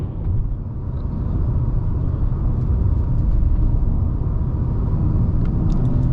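A 2019 Acura TLX A-Spec on the move, heard from inside as a steady, close engine and road rumble that holds a constant level throughout, with no talking.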